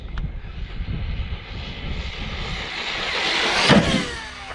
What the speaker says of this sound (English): Let's get lined up here and give the Typhon its first launch